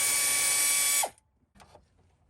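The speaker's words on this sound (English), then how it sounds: "these bolts are 13 millimeter, and I'm gonna use my air ratchet to take them out." Air ratchet spinning out 13 millimeter bolts, one loud close burst of high pneumatic whirring that stops abruptly, then brief metallic clicks and handling.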